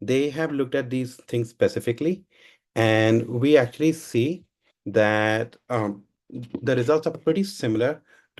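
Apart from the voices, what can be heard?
No everyday noises stand out.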